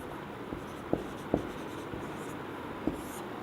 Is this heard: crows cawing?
no